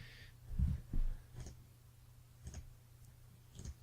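Mobile phone vibrating against a printer, a pair of loud buzzing rattles early on, then fainter single rattles spaced apart over a low steady electrical hum.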